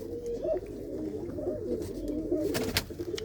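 Pigeons in a loft coo in low rolling throaty phrases, several birds overlapping, close by, with a few brief sharper rustles or flaps near the end and no talking.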